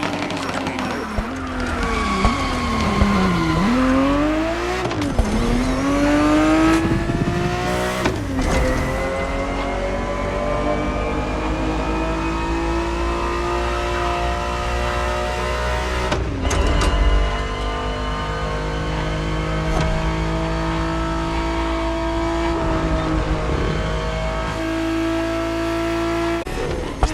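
A 1970s-era Ferrari race car in The Crew Motorfest screams through rising and falling engine revs, with gear changes and brief tire squeals, loud and close for nearly half a minute.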